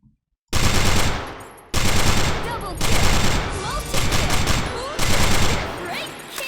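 Sustained automatic gunfire from a machine gun in the online shooter Sudden Attack, several loud bursts of rapid shots separated by short pauses, with a brief silence at the start.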